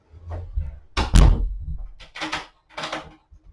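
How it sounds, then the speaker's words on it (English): A house door opened and shut to let a cat outside: a loud thunk near 1 s followed by several shorter bumps and rattles up close, with no talking. "I'm just going to let him out the door."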